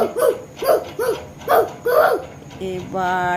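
A person imitates a barking dog, producing five short, punchy woofs in a steady rhythm up close, followed by a brief higher-pitched vocal tone.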